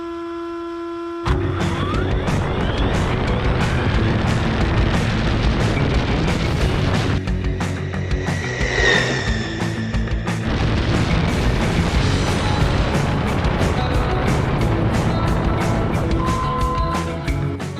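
A Wltoys 104019 brushless RC monster truck driving on its stock battery, starting abruptly into a loud, continuous buzzing rush with gritty bumps and clattering crashes, sustained at close range for the whole stretch.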